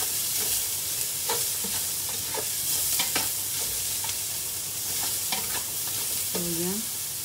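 Bicol laing ingredients sizzle steadily in a hot pan, with scraping stirs and a brief squeak near the end, loud and close with no talking.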